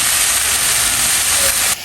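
Food sizzling hard in hot pure mustard oil in a home kitchen, a loud continuous hiss that holds steady, then drops off abruptly near the end, very close.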